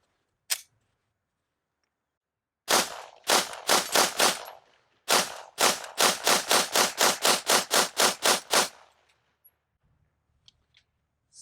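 A Canik TTI Combat pistol fires subsonic 147-grain rounds: one isolated shot, then two rapid strings of roughly a dozen sharp, loud shots each in quick, even rhythm, with quiet gaps between.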